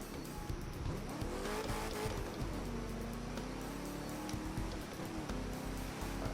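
A TVR Griffith driven in the video game The Crew 2, its engine droning steadily with rising and falling revs and tire squeal, close and continuous throughout.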